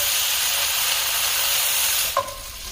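Shiitake mushrooms cook in a pan for a bacon mushroom pasta, giving off a steady broadband sizzle that stays even throughout, with a brief brighter hiss or clink near the end.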